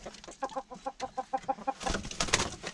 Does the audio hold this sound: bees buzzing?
no